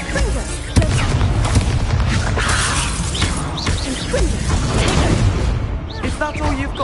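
A Confringo fire spell blasts in Hogwarts Legacy, a loud booming, crackling burst of magical fire that runs steadily through the stretch, with voices talking over the game sound.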